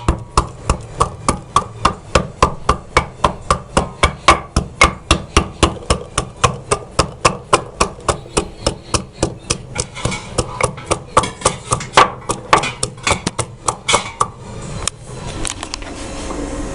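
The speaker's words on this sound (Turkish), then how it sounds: "Sarımsakları dövüyoruz." Garlic cloves are pounded in a steady, fast rhythm of sharp thuds, roughly three strikes a second for about fifteen seconds. The pounding is loud and close in a home kitchen and slows and fades at the end.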